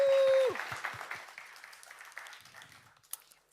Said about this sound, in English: So give a round of applause for Akanksha.